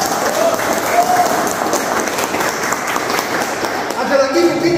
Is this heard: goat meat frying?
no